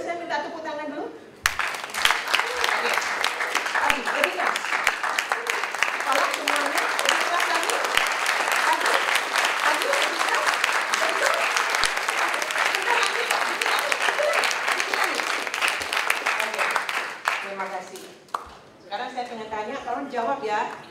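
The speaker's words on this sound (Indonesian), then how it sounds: "Boleh saya minta tepuk tangan dulu?" A lecture audience at an entrepreneurial mindset class applauds at length, dense sustained clapping filling the room for about fifteen seconds before fading, with a speaking voice before and after.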